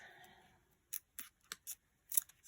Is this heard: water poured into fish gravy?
no